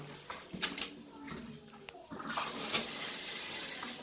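Water runs from a handheld shower head fitted in place of a fixed one, a soft hiss of spray that swells into a steady stream partway through, with a few light knocks and splashes early on.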